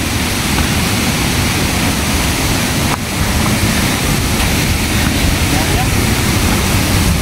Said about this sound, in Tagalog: Grabe yung pusdak ng tubig to.